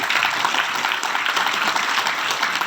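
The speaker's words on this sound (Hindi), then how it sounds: "एक बार जोरदार तालियां के लिए।" Audience applause at a live gathering, steady dense clapping from many hands throughout, loud and close, without any speech over it.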